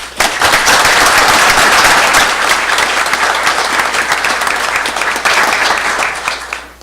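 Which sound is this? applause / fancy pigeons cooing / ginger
applause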